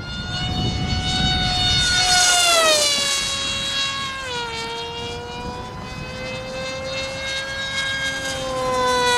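A small RC model jet plane roars steadily overhead, its whining engine pitch sweeping up then sliding down as it passes close and loud.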